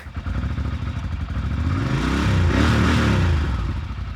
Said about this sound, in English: Let us hope that the motorcycle will start.